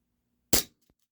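A single sharp crack from an HFC DarkHawk gas blowback airsoft pistol, close and loud, quickly decaying with a faint mechanical clack just after, alone without talk.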